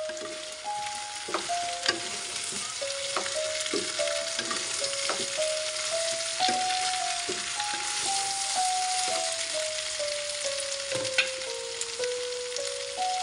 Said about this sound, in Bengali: সরিষা বাটা দিয়ে আবারও একটু ভালোভাবে নেড়ে ছেড়ে নিচ্ছি।